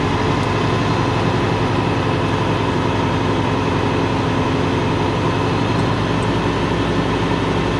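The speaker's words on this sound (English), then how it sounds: "I help the engine by accelerating," A truck's heavy diesel engine revs steadily during an air brake check, a loud, continuous low drone with no talking.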